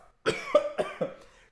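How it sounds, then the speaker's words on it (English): Four dry, hoarse coughs from a person with a dry throat, close and fairly quiet, spaced about a quarter second apart after a brief silence. "Hold on, I have to cough."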